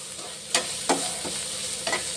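Soya stuffing with chili powder, salt and ginger-garlic paste fries in a pan, giving a constant close sizzle broken by several distinct scraping strokes of a spatula.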